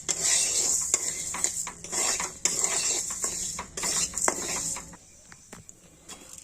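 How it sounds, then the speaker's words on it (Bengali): Lentils are dry-roasted in a pan while being stirred, making a continuous close rasping, rattling scrape with some metallic knocks. The scraping runs steadily, then thins out toward the end. "শুকনো কাঠখোলায় তোমরা ডালটা ভালো করে ভেজে নেবে, দুটো ডালই ভেজে নেবে।"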